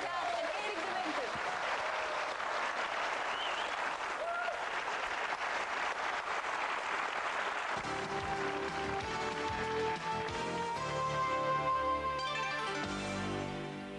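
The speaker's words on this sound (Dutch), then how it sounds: "Geef ze nog een applaus" A television studio audience on the Dutch show De Droomfabriek claps loudly and continuously, with a band striking up music underneath partway through and carrying on over the applause.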